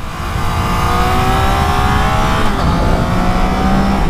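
Triumph Trident 660 (2021) three-cylinder motorcycle engine revs hard while riding, a loud, steady, close drone whose pitch climbs in smooth sweeps and then dips, with no talking.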